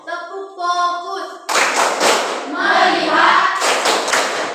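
Classroom students perform the rhythmic 'tepuk fokus' clap routine together, a group of hands clapping in bursts after a short hummed or sung lead-in, loud and close in an Indonesian teaching session.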